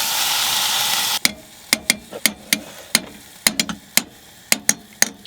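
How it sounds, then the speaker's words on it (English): Leftover lentils warming in a pan make a steady sizzle. About a second in, the sizzle gives way to a run of sharp scraping clicks as a utensil stirs and taps against the pan. "we're just gonna warm this up and have leftovers for lunch because it's easy, and we're probably gonna eat it right out of the pan"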